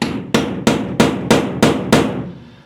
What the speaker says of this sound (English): center punch it right in the middle of that pop rivet. So I got my hammer.